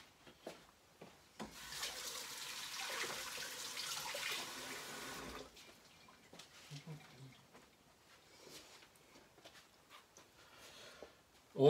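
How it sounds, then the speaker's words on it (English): Hands are rinsed under a running kitchen tap while food is being prepared, a soft splashing water stream that runs for a few seconds and then stops, followed by quieter clatter and handling noises. "Always keep your hands washed"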